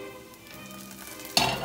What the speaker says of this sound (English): I'm sauteing them, not all day, just a little bit inside of the pan.